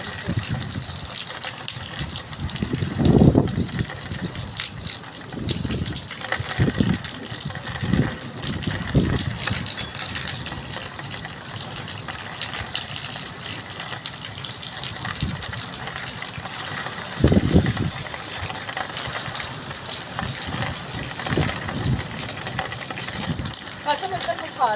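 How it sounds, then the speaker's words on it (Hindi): Heavy rain pours down in a dense, constant hiss with water gushing and splashing nearby, while someone talks over it at intervals. "बहुत तेज़ बारिश हो रही है"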